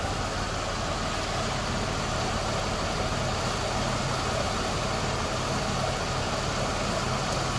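A 2002 Oldsmobile Intrigue V6 idles just after start-up, a steady even hum that holds unchanged throughout with no one speaking.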